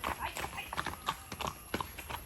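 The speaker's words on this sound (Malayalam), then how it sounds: "അപ്പോൾ കേട്ടോ കുതിര പോണു" A horse walks on a farm, its hooves clip-clopping in a clear, regular series of crisp nearby knocks over a quiet background.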